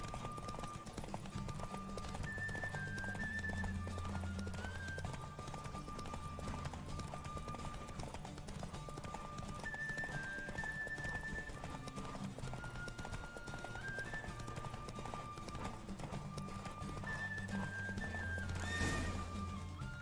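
Steady galloping hoofbeats with occasional whinnies from a horse race in The Witcher 3 run over a constant game soundtrack of music and effects, loud and continuous throughout.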